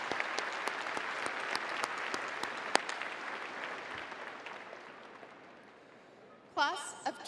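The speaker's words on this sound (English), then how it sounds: "Please join me in a round of applause. One more round of applause," A high school graduation audience applauds teachers and staff, sustained mid-distance clapping with a few sharp nearby claps, fading toward the end before a voice begins speaking over the sound system.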